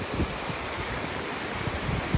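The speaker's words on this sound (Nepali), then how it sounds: "हिमनदी बगिरहेछ दाइले हिमनदीको पानीले" Glacial meltwater stream flowing on the trek to Tilicho Base Camp in Manang, Nepal, a steady broad rushing wash of water with wind buffeting the microphone.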